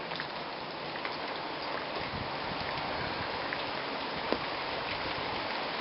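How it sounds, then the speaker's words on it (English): Steady rain falls across the high desert as a dense, even hiss of drops on surfaces, with a few faint louder taps and no talking. "It's been raining all day"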